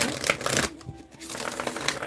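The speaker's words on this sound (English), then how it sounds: "So we're going to shuffle." A tarot oracle card deck being shuffled by hand, with dense papery riffling and brief flicking bursts that pause for a moment before continuing, close and fairly loud, with no talking.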